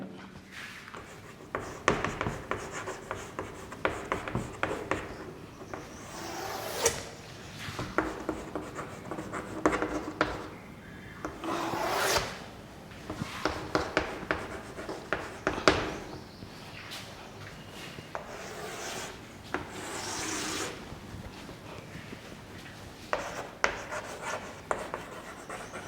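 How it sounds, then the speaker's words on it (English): Chalk or marker writing on a classroom board during a technical workshop lesson, with repeated scratchy strokes in bursts and short pauses over roughly half a minute, close and moderately loud with no talk. "We are going to write it for."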